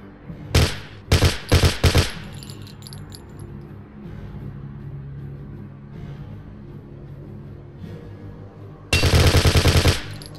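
Gunfire in the World War II shooter game Hidden & Dangerous 2, a close, loud burst of automatic fire at the start, a quieter stretch of background noise, then another sustained burst at the end.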